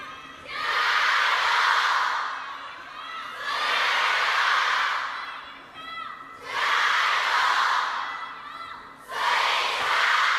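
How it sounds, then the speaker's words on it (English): Spectators at a women's table tennis quarterfinal cheer and shout in four loud swelling waves separated by brief lulls, with an indoor arena crowd roar. "Now the crowd firmly behind the world number one."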